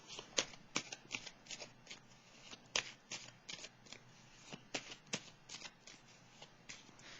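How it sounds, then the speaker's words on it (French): Tarot cards are shuffled and laid down one after another, a steady run of crisp papery snaps and slaps with soft rustling between them, close and moderately quiet, with no voices. "Je vais juste déposer ici la carte, une carte sur celle de la transformation à l'envers."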